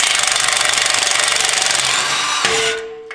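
Impact wrench with a 21mm socket hammering off a Jeep JL Wrangler tie rod nut: rapid, loud, rhythmic rattling bursts for over two seconds, then a clunk as it stops and the motor spins down.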